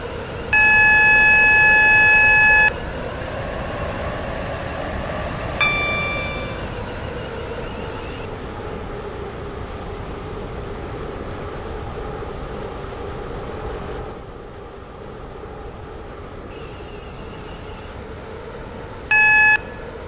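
Electronic beep tones sound in bursts at the start, around five seconds and near the end, over a steady rumble of a train running in the Roblox-style railway game Stepford County Railway, with no talking.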